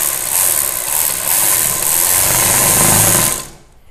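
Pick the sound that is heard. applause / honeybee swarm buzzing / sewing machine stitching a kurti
sewing machine stitching a kurti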